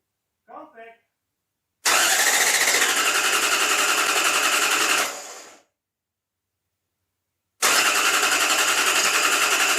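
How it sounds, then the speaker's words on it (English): A Lexus LS400 engine cranking over in two long bursts of rapid, loud starter whirring, close up, separated by silence, after a brief voice at the start. "gonna crank the car over a couple of times"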